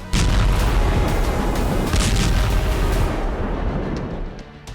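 Russian missile strikes hitting western Ukraine, heard as a heavy, continuous roar of blasts and rumbling booms, loud and close, with scattered sharper bangs before the noise slowly fades.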